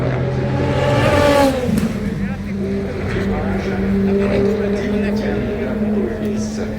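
A safety car circles the track during night practice at Le Mans 2026 near Tertre Rouge, its engine droning in a steady tone that swells and then eases, with voices heard underneath.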